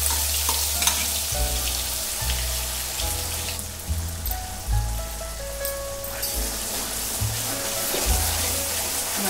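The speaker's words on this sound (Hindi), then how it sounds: "तेल भी गर्म हो गया है अपना। डालेंगे हम इसमें, हमने जो पीसे है वो मसाला डाल देंगे हम।" Ground spice paste sizzles and crackles in hot oil in a home kitchen, a dense, continuous frying hiss with scattered pops, heard close up alongside low thumps.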